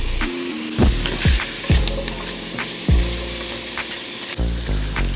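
Sausage links sear in olive oil with a continuous close sizzle, broken by several sharp pops and spatters and occasional turning sounds.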